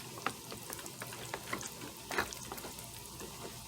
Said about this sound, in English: you're going to go ahead and mix everything real good